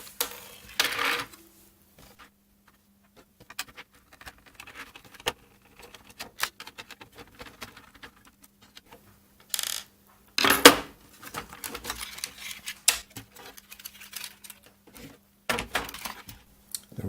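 Plastic clicks, rattles and scraping come as the keyboard is pulled out of a Commodore 64 case, in scattered bursts with quiet gaps and two louder clatters partway through.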